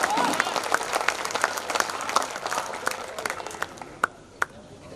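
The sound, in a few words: audience applause at a kavi sammelan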